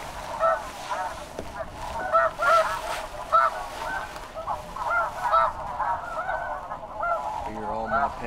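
Snow geese honk in a dense, overlapping chorus at a conservation hunt, calls rising and falling steadily with a few louder nearby honks; a voice talks briefly near the end.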